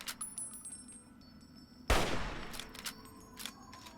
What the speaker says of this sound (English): I like how they don't even really care that I'm shooting at them.